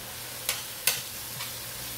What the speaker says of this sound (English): now it's really sizzling, and I have the bacon cooking over here in a separate pan